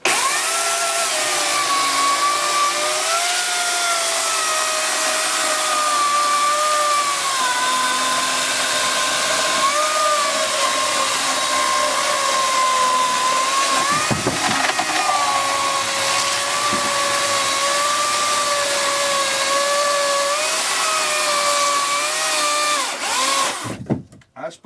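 A powered saw cuts through wood in a long, loud, continuous whine with a steady droning pitch, running almost without break before cutting off abruptly at the end.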